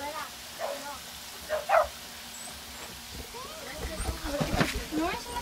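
Dogs bark and yip in a few short, scattered bursts, moderately close, with a busier stretch of noise near the end and people talking faintly in the background.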